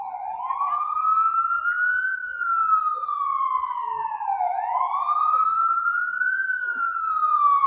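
Police and emergency vehicle sirens wail on a New York City street at night, one loud continuous rising and falling sweep that repeats steadily with traffic rumbling faintly underneath.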